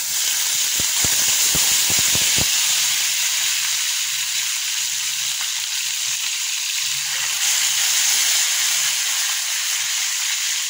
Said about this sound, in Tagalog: Pirito natin, guys, ang ating panahog.